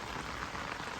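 Heavy rain pours down steadily in a village, a dense, continuous hiss of drops drumming on surfaces, close and loud throughout with no voices.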